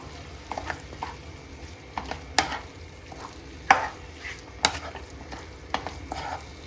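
Chicken with turmeric and masala is stirred in a pot, with a handful of sharp spoon knocks and scrapes against the metal over a low background sizzle.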